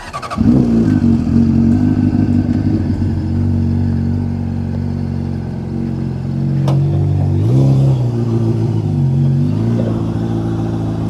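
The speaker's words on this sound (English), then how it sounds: "I'm just gonna try to start it and then just slowly walk it up in first gear and use the clutch." A Honda CBR600RR sport bike fires up and idles with a steady mid-pitched engine drone, then revs briefly and pulls away slowly in first gear using the clutch, loud and close with no speech.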